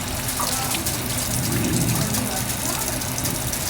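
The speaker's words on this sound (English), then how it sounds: "I'm going to then start by rinsing my hands." Tap water runs steadily into a sink while hands are rinsed under it, a continuous close splashing gush, with a voice talking over it.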